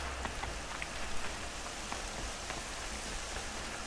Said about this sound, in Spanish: Yo creo que la lluvia me va a ayudar.